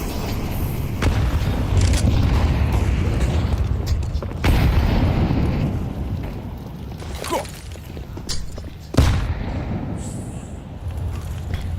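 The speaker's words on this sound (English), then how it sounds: "Great nades to soften up the B hit" Grenade blasts in a Counter-Strike esports match at IEM Cologne 2025, FURIA versus MOUZ, boom heavily, with several sharp explosive hits over a rumbling background and some commentary talk.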